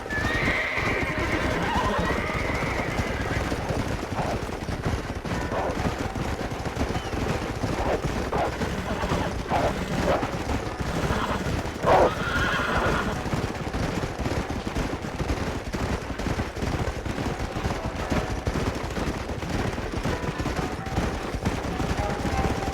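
Horses in the video game Red Dead Redemption clatter along with continuous hoofbeats and whinnies, mixed with bursts of gunfire and occasional voices in a busy, noisy scene.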